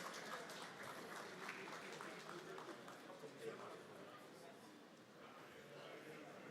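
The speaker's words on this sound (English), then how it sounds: "Or a round of applause, please." Audience applause at a formal opening ceremony, a fairly quiet, distant patter of many hands clapping that stays steady and then tapers slightly before picking up again, with no clear voices on top.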